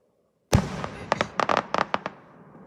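Fireworks explode at night, one sharp loud blast followed by a rapid irregular series of about a dozen crackling pops that taper off into fading echoes.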